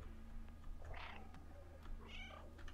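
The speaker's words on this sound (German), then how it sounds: "Warte mal, einmal miau." A cat meows twice in Stray, two short clear calls spaced about a second apart over a low steady hum.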